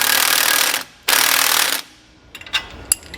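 An impact tool snugs down the nut on a rear shock absorber bolt while fitting an anti-sway bar to a 2015 Thor Four Winds motorhome, firing in two loud, close bursts, then a few quieter clanks of the hardware.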